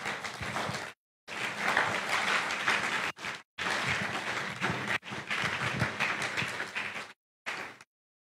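A church congregation applauds in long, even stretches of many hands clapping, broken by a few abrupt silent gaps; moderately loud and evenly spread, with no talking over it.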